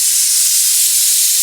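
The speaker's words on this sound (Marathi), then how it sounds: "आता आपण गॅसवर कुकर ठेवलाय आणि याच्या 7 ते 8 शिट्या करून घ्यायच्यात" A pressure cooker on a gas stove, cooking taro for a Marathi-style bhaji, vents steam in a loud, steady, close hiss without pause.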